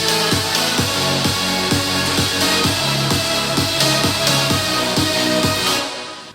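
The drop of a house track pounds along with a steady four-on-the-floor kick and pumping bass under a dense, bright synth wall, loud and driving before cutting off at the end.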